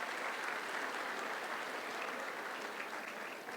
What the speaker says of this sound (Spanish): Un aplauso para ellos que tienen que hacer todo en su escuela.